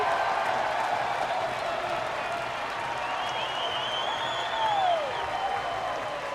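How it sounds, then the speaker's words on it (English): Stadium crowd at Haymarket Park cheering and applauding after a game-tying triple in a Kansas State at Nebraska college baseball game: a steady, broad roar with scattered whistles, swelling slightly near the end. "And the crowd here at Haymarket Park absolutely loving it"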